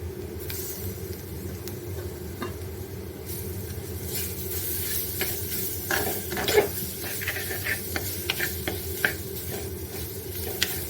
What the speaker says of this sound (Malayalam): തക്കാളി ഇട്ട് കൊടുക്കാം.